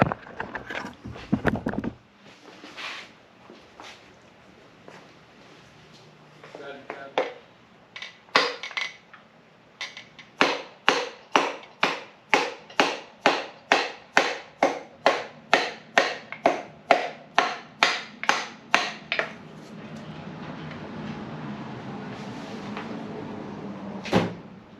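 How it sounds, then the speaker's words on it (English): A piston being pounded down into the engine block of a '57 Bel Air restomod, a long run of sharp, evenly spaced knocks, close and loud, with a few scattered taps before the steady rhythm begins. "I'm making sure to guide the connecting rod bolts onto the crank as I'm pounding the piston down."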